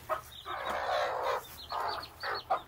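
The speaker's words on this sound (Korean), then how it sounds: "얘네들 엄마끼리 엄청 싸워요" Mother hens squabbling over their chicks on a farm, giving a few loud, harsh squawking bursts separated by short pauses, fairly close and without any talking.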